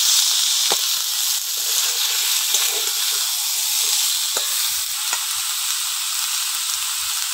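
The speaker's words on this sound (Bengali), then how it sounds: "এবার সবজিগুলো দিয়ে দেবো। আলু আর বেগুনটা আগে দিয়ে দিচ্ছি।" Potatoes and eggplant fry in a pan alongside a fried fish head for a greens chorchori, a steady bright sizzle with occasional clicks of stirring, close and continuous, no voices.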